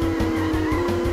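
A toy-like racing car from Gadget Racers on PS2 drifts with a loud, continuous engine whine and a pulsing, wavering tire squeal throughout a short burst.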